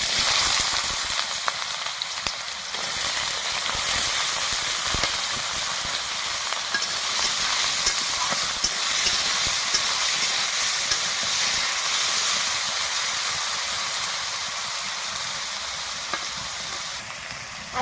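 Potato pieces fry in hot oil in a wok (kadai), giving a loud, steady sizzle and hiss that holds for the whole stretch with small crackles and stirring scrapes.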